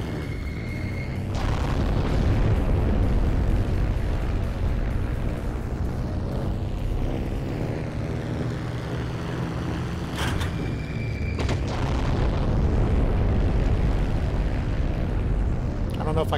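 Continuous heavy rumbling booms from bombing in a combat video game, a dense low roar with a couple of sharp impacts partway through.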